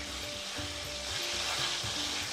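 Hilsa and eggplant fritters sizzle steadily in hot oil, a dense continuous crackle and hiss with faint low hum beneath, no voices.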